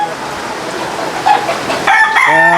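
A gamecock brood stag crows loudly and close at the end, outdoors during a rainstorm, after a few seconds of steady rain with brief clucks and bird calls.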